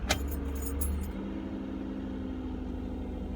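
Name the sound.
2010 Toyota Camry engine cranking and starting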